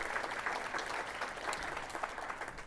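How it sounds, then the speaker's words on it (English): A big round of applause from an audience at a community health event on farmworkers, dense steady clapping throughout at moderate volume with no talk over it. "So big round of applause for compañero."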